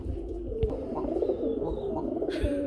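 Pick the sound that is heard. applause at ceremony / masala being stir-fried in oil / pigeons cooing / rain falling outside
pigeons cooing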